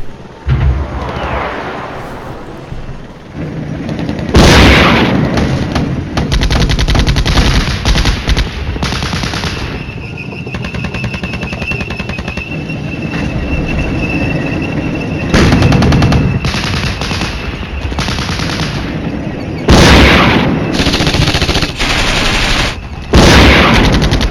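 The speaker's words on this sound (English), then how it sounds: "There's a lot of shots each way, left and right" Sustained exchanges of machine-gun fire and heavy bursts in the modern wargame Flashpoint Campaigns, loud and continuous with sharp louder volleys breaking through at intervals.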